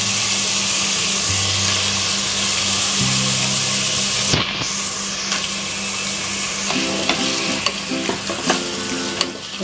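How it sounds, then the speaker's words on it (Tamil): Mixed navadhanya grains sautéing with softened tomatoes in a pan, a continuous sizzle with repeated scraping stirs of a spatula and a steady low hum beneath, no voices. "இப்போ தக்காளி வதங்கிச்சு நவதானியத்தை போட்டு"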